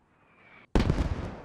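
Allied mortar shells from the Post Scriptum war game burst in a sudden loud blast after a thin hissing whine and a brief gap, the explosion rumbling and crackling as it trails off.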